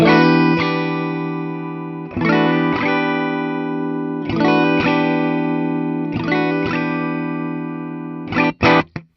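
Distorted Gibson 2023 50s Les Paul Standard three-pickup electric guitar strums a repeating chord pattern, with the tone shifting slightly between strums as a knob switches sounds, and a few quick choppy hits at the end.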